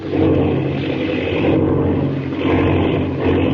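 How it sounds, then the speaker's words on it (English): Propeller airplane engine droning steadily in a radio drama, a loud continuous hum with slight swells that never lets up, no voices over it. "There is a plane back there."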